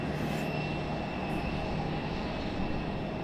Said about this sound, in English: Alright, our American is taxiing. In this E-175.